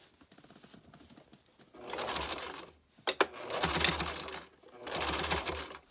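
Sewing machine stitching ruffles on a DIY dress, in three bursts of close, rapid mechanical whirring, separated by short pauses with a quiet slower run-up and a few clicks.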